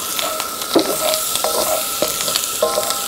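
Ginger stir-fries in a wok, a bright continuous sizzle broken by a series of clanking scrapes as the food is stirred, close and fairly loud.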